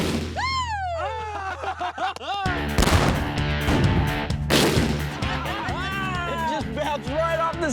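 A cannon fires a loaded Edam cheese out of its barrel with a sudden loud blast partway through. Whistling, sweeping effects and voices surround the shot before and after.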